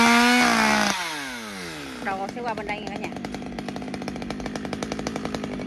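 A chainsaw cuts into an old, overgrown Gừa bush in an abandoned garden, its engine revving up and then running in steady rapid pulses while someone talks over the start.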